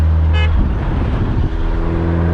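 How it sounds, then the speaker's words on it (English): A single short car horn toot sounds near the start, a brief bright blast that stands above a steady idling engine rumble. "Got a little honk."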